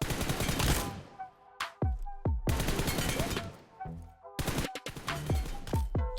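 Gunfire in a shooter video game fired while aiming through a 4x scope, loud close shots in several quick bursts separated by short gaps.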